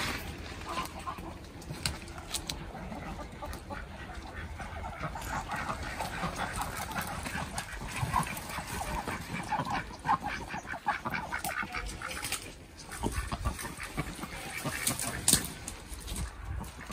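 Backyard chickens around a deep-litter run cluck and squawk continuously nearby, with busy overlapping calls and occasional louder honking cries over a steady background.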